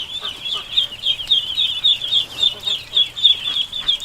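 Ducks kept at a home call indoors, giving a rapid series of about a dozen sharp, evenly spaced nasal calls close by, with some quiet background noise.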